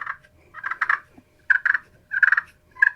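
A GSM Outdoors Cookie Cutter friction turkey call is dragged to make a purr: soft rolling trills in four bursts separated by brief pauses, close and clear with no talking.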